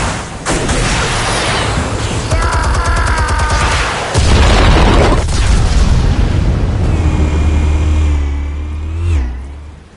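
Explosives detonate in Batman: The Telltale Series, with loud booming blasts, a rumbling roar and crashing debris, followed by a lingering low rumble and a rising whoosh toward the end.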